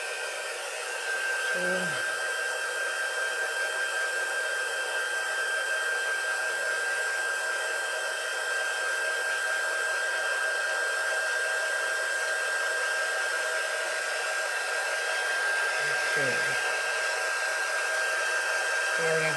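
A hair dryer runs steadily and close for the whole stretch, blowing to dry paint on a craft bunny birdhouse insert, with a brief spoken word near the start.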